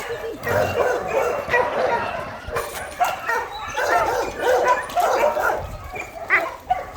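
Several dogs at an animal shelter in Bečej, Serbia bark, yip and whimper together nearby, a busy overlapping chorus with a few people talking in the background.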